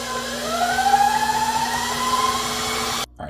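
A stand mixer running steadily in fifth gear while creaming pumpkin pound cake batter, a continuous motor whir with a rising whine, stopping abruptly near the end.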